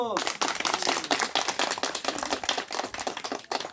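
A group of villagers clapping at a village gathering, a dense burst of many hands applauding close by, with a voice speaking over the start.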